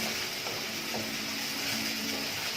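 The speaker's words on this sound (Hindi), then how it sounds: "कलर आ रहा है, प्याज ब्राउन हो रही है" Onions sautéing and browning in a pan for vegetable rice produce a soft, continuous sizzle, steady and fairly faint, with no talk.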